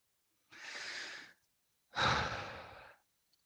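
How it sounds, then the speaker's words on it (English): Two deep, slow breaths, a long inhale followed by a fuller, louder exhale, close and alone in a quiet room. "Deep breath."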